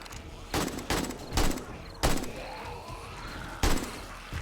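Gunfire in the survival video game 7 Days to Die: several sharp, punchy shots spaced irregularly over a few seconds, loud against a quieter game background with a faint tonal hum.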